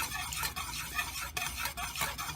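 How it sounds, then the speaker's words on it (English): Melted candle wax being stirred steadily in a pot while making lavender and green tea scented candles, a continuous soft scraping swish with faint sizzle-like texture, close and alone without talk. "And you're going to continue to stir to get the scents all throughout your wax"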